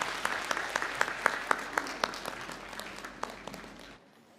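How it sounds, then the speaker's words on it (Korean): A church congregation claps together during a Sunday worship service, steady applause filling the room for about four seconds before cutting off abruptly. "우리 박수로 다시 한번 해보시겠습니다."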